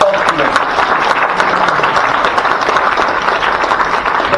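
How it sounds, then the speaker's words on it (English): A large audience at a national moot court competition at a law college applauds. The steady, loud wash of clapping runs the whole time without breaks. "So big hand of applause to them"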